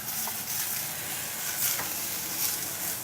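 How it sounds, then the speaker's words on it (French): Rice is stirred in sizzling butter in a pan on the stove, giving a continuous close frying hiss with soft scraping from the stirring. "Ça s'appelle nacrer le riz. Alors on le passe bien dans le beurre"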